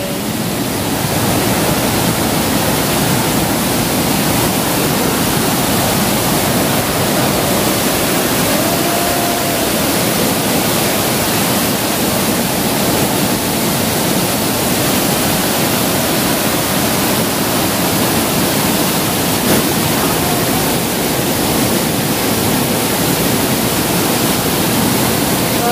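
Water flows steadily on a farm as a constant, fairly loud broadband rush with no breaks or voices for the whole stretch.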